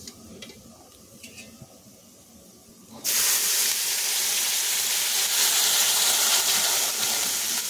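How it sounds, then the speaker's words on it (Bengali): Water poured into a hot pan of fried, reddened lentils for a vegetarian cauliflower dal: quiet kitchen noise first, then a sudden loud, sustained hiss of steam that stays strong to the end. "তখন এতে দিয়ে দেবো পরিমাণ মতন জল।"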